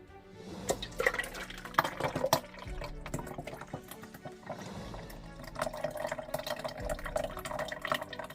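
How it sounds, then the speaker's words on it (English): Dragon fruit juice pours out of a juicer in an uneven stream of splashing drips and trickles that picks up toward the end, close by, with no talking. "I'm getting ready to pour my juice out."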